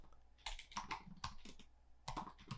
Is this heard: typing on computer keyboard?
yes